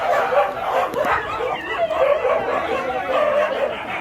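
Several dogs bark and yip again and again at a riverside ghat in Kashi, close by and fairly loud, with crowd murmur mixed in.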